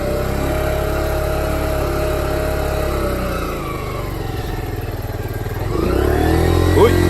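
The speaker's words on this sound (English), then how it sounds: "let's get in the first gear. There we go. Little gas." Kawasaki Z125 motorcycle idles and then pulls away in first gear, its small engine buzzing steadily nearby before the revs rise at the end.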